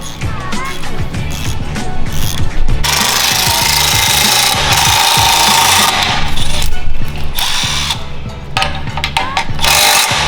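A power drill tightens bolts during a downpipe install on an A90 Toyota Supra, whirring in repeated bursts, with a stretch of steady grinding and rattling, close by and loud, with voices talking over it.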